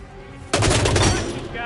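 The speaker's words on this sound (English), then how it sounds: "Someone's firing a weapon!" Sudden burst of gunfire in the video game Hitman 2, a loud sustained volley of rapid shots that erupts after a quiet start and holds for over a second, with game voices and ambience around it.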